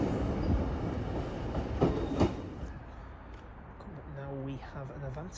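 A ScotRail train runs through Carlisle station, its steady rumble and rail noise close by, with brief sharp clacks midway and tonal squeal or horn-like lines near the end.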